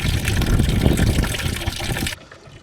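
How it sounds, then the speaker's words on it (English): Water gushes loudly through a pipe into a livestock drinker, a steady close rush of liquid that cuts off abruptly near the end, leaving quiet. "I'm going to go down and turn on the water here."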